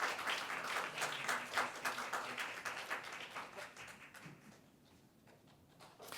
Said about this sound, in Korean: 네, 축하의 박수를 부탁드리겠습니다.